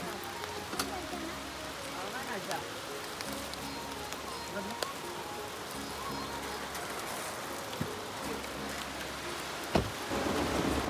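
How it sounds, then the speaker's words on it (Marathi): Rain falls steadily on a plastic-covered idol during a homeward Gauri festival procession in Wada, Palghar, a continuous patter with a few louder drops and knocks, and voices murmuring faintly underneath. "नेमका पाऊस सुरू झालेला आहे"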